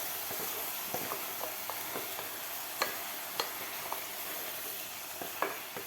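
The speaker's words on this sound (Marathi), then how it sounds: "तर आता आपल्याला हे व्यवस्थित परतून घ्यायचं आहे." Vegetables sautéed in masala for pav bhaji crackle and hiss steadily in a pan, with regular clicks and scrapes of a spoon stirring them close by.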